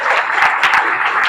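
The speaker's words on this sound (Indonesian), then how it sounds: "tepuk tangan ya." An audience claps together at a campus orientation event, a dense, loud burst of applause with quick, uneven hand claps running through the whole short stretch.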